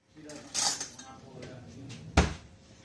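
A large metal frying pan clanks and scrapes against other cookware, ending in one sharp knock, with quiet speech around it.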